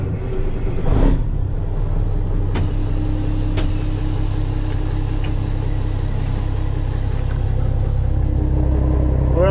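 Green Mack truck pulling a lowboy trailer rumbles steadily as it drives off, a continuous deep engine drone with a couple of sharp clicks, close and loud throughout.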